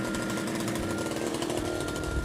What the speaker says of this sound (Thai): นี่คือเครื่องล่อต่ำสุดของเครื่องที่เขาทำได้